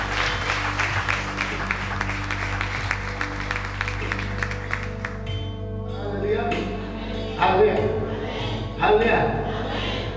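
A church congregation claps together during a sermon, a steady wash of applause that fades out midway as a preacher's voice and other speech take over.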